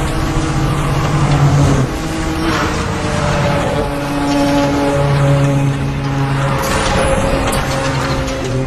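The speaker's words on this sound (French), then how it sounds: "C'est reparti. On réaccélère un petit peu." A car speeds up again, its loud engine droning steadily and shifting in pitch, with whistling high tones above it and no talk.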